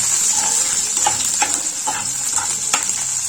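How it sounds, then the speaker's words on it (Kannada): Onion, green chilli and curry leaves frying in hot oil in a home kitchen, a steady close crackling sizzle with soft stirring scrapes pulsing through it, no voices. "ಈಗ ಇದಕ್ಕೆ ಈರುಳ್ಳಿ ಮೆಣಸಿನ್ಕಾಯಿ ಕರಿಬೇವು ಹಾಕ್ಕೊಳತ್ತೀನಿ ఇది ಸ್ವಲ್ಪ ಫ್ರೈ ಆಗಲಿ"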